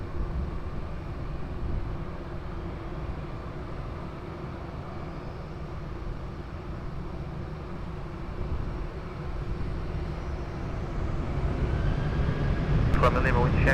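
An airliner takes off from runway 20 at Lisbon Airport, a broad distant engine roar holding steady and slowly building, heard under intermittent radio chatter from air traffic control.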